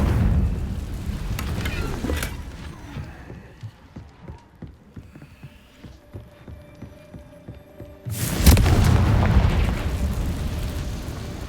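In Hogwarts Legacy, a Confringo explosive spell sounds as a loud, rumbling blast that rises suddenly after a quieter stretch of soft rhythmic thumps and footsteps, then sustains as a heavy roar.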